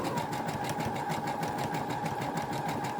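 Steady rapid whirring and needle clatter from a sewing machine stitching a buttonhole, continuous and close throughout.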